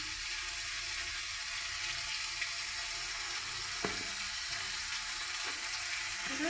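Ginger, garlic and cumin paste fries in a pan with a continuous soft sizzle, close by, broken by a few sharp clicks of a spoon stirring against the metal.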